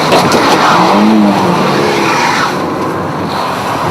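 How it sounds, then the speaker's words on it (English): A racing car in a video game is nudged by a rival and spun round, with a loud, continuous tyre skid and squeal over engine noise, no talking. "As he goes past, nudge, spin him round."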